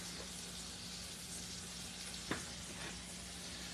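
Fried apple pies crackle and sizzle steadily in a pan of oil and butter, a soft, even frying hiss heard close with a single brief clink partway through.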